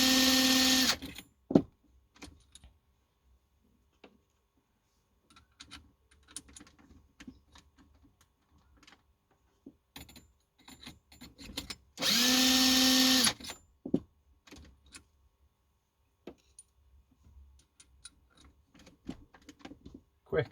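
A 300 Win Mag rifle cartridge case is trimmed in two short, loud bursts of whirring, buzzing machine noise, set apart by a quiet stretch of faint clicks and handling taps.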